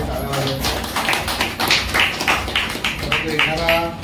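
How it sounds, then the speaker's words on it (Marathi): An audience at a Buddhist scripture reading claws up a burst of clapping for a family, a dense patter of hands swelling and fading over a few seconds, mixed with voices. "एकदा जोरदार सर्वांनी त्यांच्यासाठी टाळ्या वाजवा"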